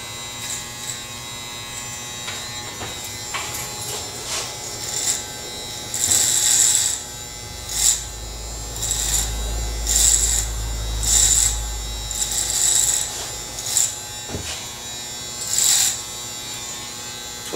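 Electric hair clippers with a number 3 guard cutting a flattop, a close buzzing hum that swells in repeated short passes through the hair, with quieter gaps between strokes.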